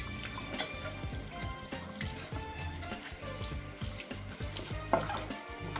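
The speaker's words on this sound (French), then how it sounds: "On va rincer tout ça." Running water rinses cleaning spray and soap and toothpaste residue off a bathroom wall, a steady splashing hiss with a few louder spatters, fairly close and continuous with no talking.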